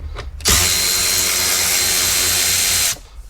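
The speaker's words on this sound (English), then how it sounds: "I will also undo those upper bolts, holding the this white bracket to the dashboard" A power tool runs in one continuous burst of about two and a half seconds, loud and close, undoing the upper bolts that hold a white bracket to the dashboard of a Mercedes CLK W209; brief quiet before and after.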